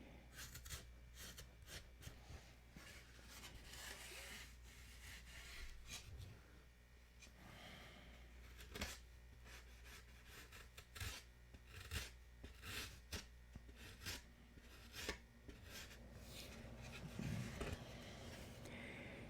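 Hand sanding along the wood of a Mega Tucker, a steady run of raspy back-and-forth rubbing strokes, close and fairly quiet, with no talking.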